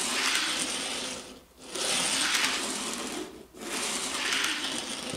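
Model railway locomotive's electric motor on test at 90B Castle Hill, a close whirring, grinding buzz running in two long stretches with a brief dip between, no talking.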